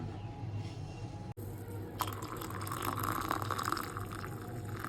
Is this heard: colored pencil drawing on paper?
no